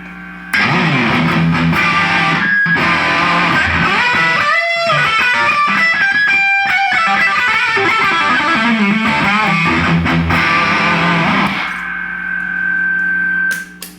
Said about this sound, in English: Then we'll add some reverb.